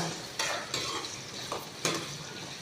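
Food sizzles steadily in hot oil over low heat, with a few scraping stirs of a utensil against the pan cutting through the crackle.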